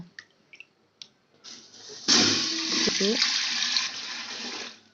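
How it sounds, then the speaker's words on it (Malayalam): A few soft clicks and knocks, then a steady rush of water pouring into a pot for cooking rice for about three seconds before it cuts off. "ഇനി ചോറിനുള്ള വെള്ളം ഇടാൻ പോവാന്ന് കേട്ടോ"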